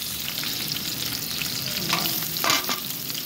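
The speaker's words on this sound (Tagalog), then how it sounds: "Mix lang guys. Mix. Hanggang mag-brown yan." Garlic, ginger and onion frying in a pan as they are stirred, a constant close sizzle with a couple of louder scraping strokes near the end.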